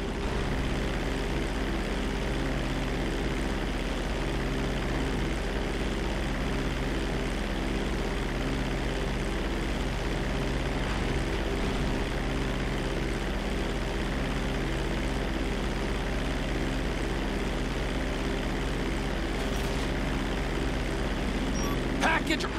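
Airplane engine droning steadily in GTA 5 during a cargo drop flight, a continuous loud propeller hum and rumble that holds level throughout with no pauses, while a voice speaks over it at times.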